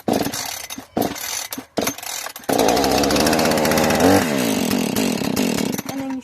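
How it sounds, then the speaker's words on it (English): An eight-year-old Husqvarna chainsaw is pulled with a few sharp rope strokes, then fires and runs at a loud, close, rasping idle. The engine revs briefly before dropping off. "let me show y'all, starts up on almost the first pull"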